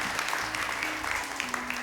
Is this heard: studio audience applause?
yes